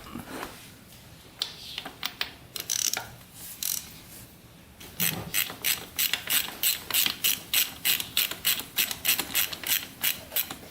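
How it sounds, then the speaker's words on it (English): Ratchet wrench loosening the 17 mm oil drain bolt on a Suzuki dirt bike: a few scattered clicks at first, then a steady run of sharp, close, regular ratcheting clicks, with no talking. "Let's get that big bolt out there. It's a 17 millimeter."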